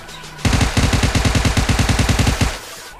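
Automatic gunfire in the mobile game PUBG Mobile, a loud, close burst of about twenty rapid rhythmic shots lasting roughly two seconds, alone with no talk.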